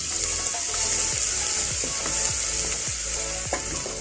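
Grated garlic and ginger hit hot oil in a lamb and potato curry, giving a steady, loud frying sizzle throughout with a few soft stirring scrapes and clinks.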